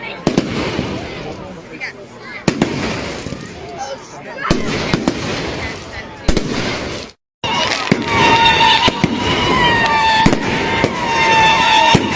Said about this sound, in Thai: หลังจากที่มีการจุดเพลิงแล้วเนี่ยเขาก็ มีการจุดพลุที่สวยงามให้ได้ชมกันด้วยค่ะ